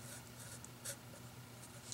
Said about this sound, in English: Let me just write the first part of this.